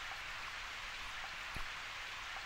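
Steady rain falling in a visual-novel dating game, a soft continuous hiss of drops with one brief louder patter midway, and no talk over it.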